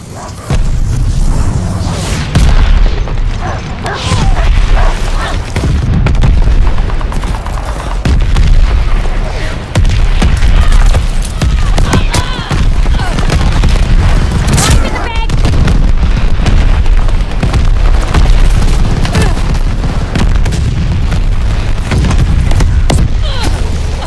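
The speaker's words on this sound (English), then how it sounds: "Allied mortar fire inbound." Mortar fire in the Call of Duty Vanguard multiplayer game lands in a long run of loud booming explosions and scattered gunfire bursts, heavy blasts repeating irregularly over about twenty seconds while voices talk beneath the din.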